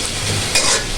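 Ginger sizzles in hot oil for beef kala bhuna, a dense close crackle and hiss with a brief louder burst as it is stirred in the pan.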